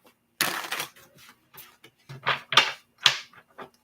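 A tarot deck is shuffled close up in short, quiet riffling bursts, with uneven gaps of silence between the card flutters.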